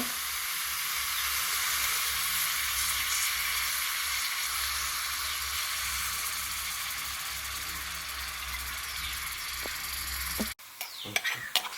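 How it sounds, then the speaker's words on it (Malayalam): Small shallots fry in coconut oil for tempering a dried-mango mackerel curry, giving a continuous close hissing sizzle that holds steady and ends with a few clinks of utensils. "ഇനി നമുക്ക് ചെറിയ ഉള്ളി വറുത്തിടാം"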